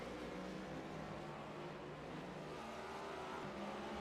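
Race car engine in a racing video game at Charlotte, a dense, steady roar as the car threads through chicanes, fairly faint and unbroken, with no voices.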